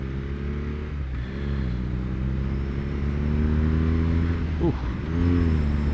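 A BMW R NineT Urban G/S motorcycle accelerates hard on a test ride, its engine note climbing steadily through the gears with brief dips at the shifts, heard from the rider's position under steady wind noise, with a short exclamation from the rider.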